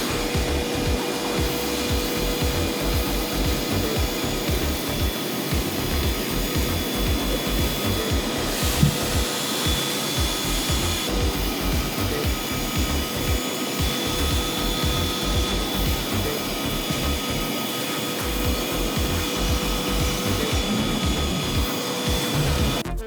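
A Flex 24V cordless vacuum running at speed 2 sucks up fine particulate with a steady, loud, unbroken whine and rushing airflow from start to finish.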